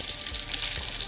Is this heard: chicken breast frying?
yes